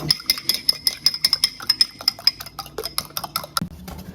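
Eggs beaten with salt and biryani colour in a bowl, a rapid, steady clinking of utensil against the dish, close and distinct, slowing near the end with a final knock, no talk.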